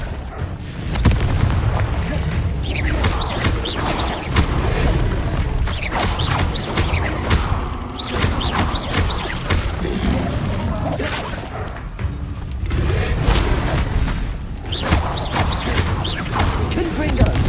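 Repeated Confringo blasting-spell explosions in Hogwarts Legacy gameplay, a dense run of loud booms and bursts mixed with mechanical creaks and clanks that continue without pause.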